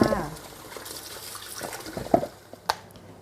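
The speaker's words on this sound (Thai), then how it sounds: "หลังจากนั้นก็ล้างมันเทศให้สะอาดนะคะ" Water runs from a kitchen tap while sweet potatoes are washed, a soft continuous flow with a few splashes and clinks under a voice.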